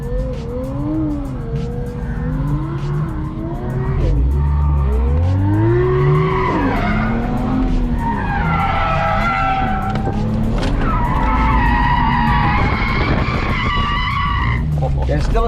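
A drift car slides through a long skid, its tires squealing in rising and falling sweeps over a loud engine drone, close and sustained; people talk over it.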